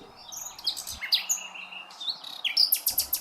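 A nightingale sings in quick, high chirps and short whistled phrases, fairly close and clear, with brief pauses between bursts.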